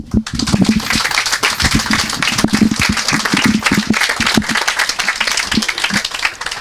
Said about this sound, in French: Je vous demande donc d'applaudir tous cette réussite